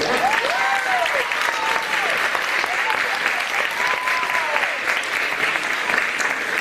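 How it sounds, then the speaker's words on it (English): Sustained applause from an audience at the Norwich Public Library honoring a children's storyteller's 1,000th story time, steady and dense throughout, with light voices and cheers rising through the clapping. "So can we give her another round of applause?"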